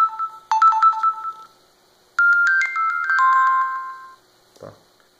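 Phone ringtones preview one after another in the sound settings of a Firefox OS pre-release: two short, bright melodic chimes separated by a pause, followed by a faint click.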